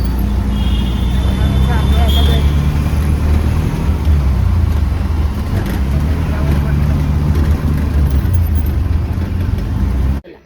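An auto rickshaw rides through night traffic near Kurla market, its engine drone loud and continuous with surrounding road noise, until it cuts off abruptly at the end.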